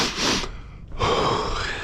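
A runner in the middle of a fartlek breathes heavily and close up, with two long, harsh breaths and a short pause between them.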